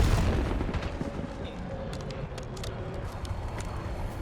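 A loud, rumbling explosion in the video game Black Ops 7 opens, then a sustained roaring rumble with scattered crackles and small bursts continues.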